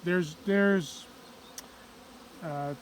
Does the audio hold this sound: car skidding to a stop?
no